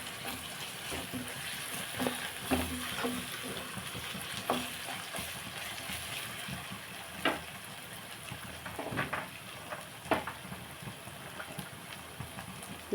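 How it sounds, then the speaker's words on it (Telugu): Chicken frying in a pan while being stirred, a steady loud sizzle with repeated scraping stir strokes throughout, no talk over it. "ఇదిగోండి చికెన్ వేసేస్తున్నాను."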